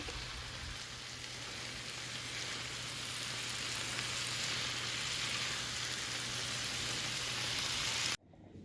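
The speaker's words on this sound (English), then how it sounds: "Now the only thing you have to do is heat this through so that the beans are warm and the cactus is warm and the onion cooks a little bit" Cactus, black beans and onion heat in a pan with a steady, close sizzle that holds evenly throughout and then cuts off abruptly at the end; no one speaks.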